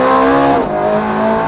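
A Ferrari F430 Scuderia race car pulls flat out on a track straight in fourth gear near 8,500 rpm, its engine a loud, close, high-pitched wail with a brief dip as a gear change cuts in.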